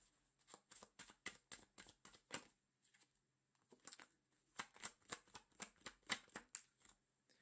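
Tarot cards are shuffled by hand to pull a trigger card, producing a quick run of crisp, close riffling flicks in two bursts separated by a short pause, with no talking.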